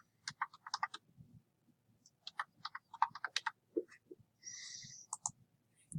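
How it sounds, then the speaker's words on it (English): Typing on a computer keyboard: bursts of crisp, close keystroke clicks in quick clusters with short pauses and one brief sustained tone, fairly quiet overall. "type in name"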